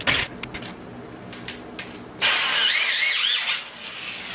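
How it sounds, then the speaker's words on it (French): A power drill backs screws out during a kitchen demolition, a few short taps and bursts, then a long whining run that rises and falls in pitch. "la perceuse, ça va beaucoup mieux que le tournevis pour démonter des vis"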